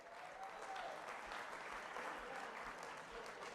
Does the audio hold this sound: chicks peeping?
no